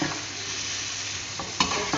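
Potatoes frying on full flame, stirred with a spoon: a constant close sizzle broken by a few brief scraping clinks of the spoon against the pan.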